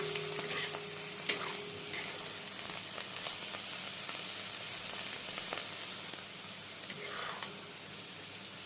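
Sliced bitter gourd frying in a generous amount of hot oil, a steady close sizzle and hiss with occasional stirring clinks, no talking.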